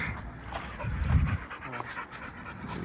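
A dog pants in quick, breathy bursts while out on a walk in the hills. The panting is close and moderately loud over faint outdoor background, and one heavier stretch of breathing stands out midway.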